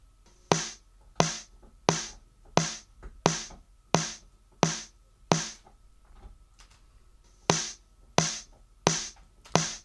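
Bussed snare drum hits, heavily compressed and EQed for brightness and smash, striking in a steady even rhythm with a short gap midway before resuming; close, punchy and alone with no talk.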